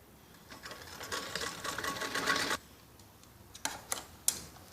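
A sewing machine stitches elastic onto a child's skirt waistband, a fairly quiet close whir with fast needle ticking lasting about two seconds, then a few short separate clacks and taps.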